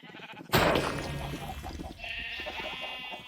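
A sheep bleats in Minecraft, one sudden nearby cry that trails off, followed by a thinner second bleat, with no talking.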